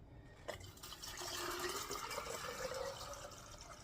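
Tap water runs into a canner being filled for canning beans, a steady close rushing and splashing that rises after a brief start and continues throughout.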